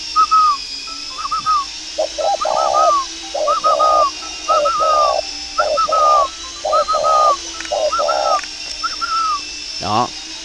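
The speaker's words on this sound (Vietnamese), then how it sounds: "Bây giờ tôi sẽ bảo nó gù tiếp." A young spotted dove gives a run of rhythmic cooing phrases, soft hoots paired with whistly upper notes, close and clear over a faint hum, ending with a brief sharp sound.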